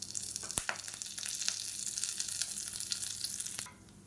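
Curry leaves crackle and sizzle in hot oil with a few sharp pops, the steady frying hiss continuing close and loud before cutting off abruptly near the end.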